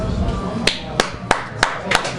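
One person clapping at a sports show event, with five evenly spaced sharp claps heard under ongoing talk and background chatter.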